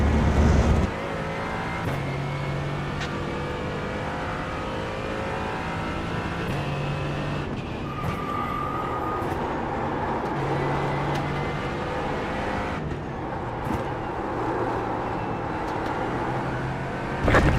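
Faster race cars sweeping past in a sports car endurance racing game at Road Atlanta, engines droning steadily, pitch shifting as each one closes in and pulls away.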